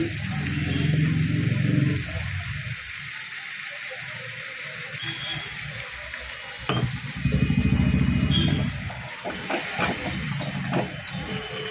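Ginger paste hits hot oil in a home kitchen pan and gives off a loud, steady sizzle and hiss. It eases off midway, then flares up again when stirred, with clatter from the pan.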